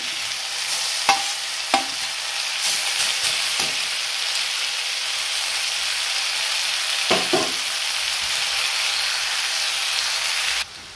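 Curry leaves and coriander fry in a pan for an onion-tomato masala, a steady close sizzling hiss with a few scraping stirs and crackles, ending abruptly.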